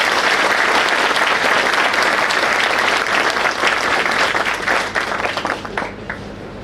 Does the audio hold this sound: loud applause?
yes